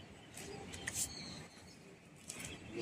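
A released flock of 28 pigeons in a pigeon-flying competition gives faint, scattered bird calls and brief flutters over steady outdoor background noise.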